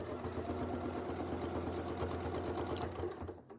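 A sewing machine stitches around a template in a fast, steady mechanical rhythm, close and continuous, before winding down at the end.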